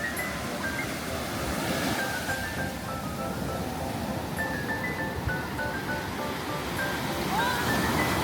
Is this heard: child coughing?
no